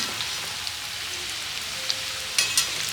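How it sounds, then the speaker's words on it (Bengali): Singara fry in hot oil while being turned slowly, an even, close crackling sizzle like light rain, with occasional brighter pops and faint utensil taps. "ওটা আস্তে আস্তে নাড়িয়ে দিব আমি"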